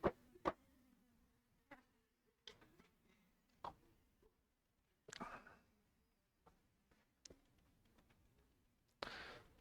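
A housefly buzzing around a room, heard as faint, intermittent short bursts and flicks scattered over several seconds with quiet gaps between them and no talking.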